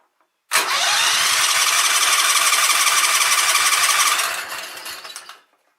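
A Kohler Commander engine on a Sears Craftsman tractor cranks steadily for about four seconds with a loud, rapid, squealing starter churn and sporadic firing, then winds down, heard up close with no talk.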